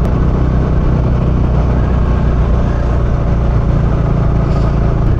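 A Bajaj Dominar UG2 motorcycle riding on a road, its engine giving a loud, steady drone with constant wind rush and no break throughout.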